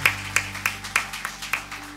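A short burst of hand clapping during a church worship service, a handful of distinct claps in a loose, steady rhythm over a low background hum.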